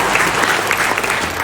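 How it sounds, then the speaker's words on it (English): Loud, sustained applause from an audience at a speech in an NIT hall, a thick continuous patter of many hands clapping close by for the whole moment. "Don't you feel like clapping your hands?"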